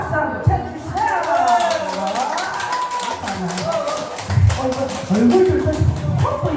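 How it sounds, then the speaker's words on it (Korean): An audience at a singer's live medley show for older listeners claps in a fast, continuous patter, while a voice carries on over the applause. "분위기 좋은 거 박수 한번 쳐주세요"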